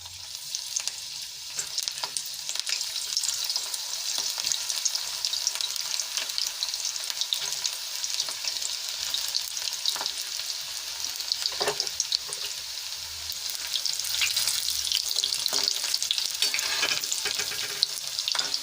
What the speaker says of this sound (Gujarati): તો આપણું તેલ ગરમ થઈ ગયું છે તો હવે આમાં આપણે મુઠિયા તળી લેશું